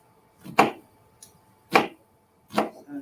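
A knife chops yellow onion finely on a board in three separate, crisp strikes spaced about a second apart, close and clear with quiet gaps between them.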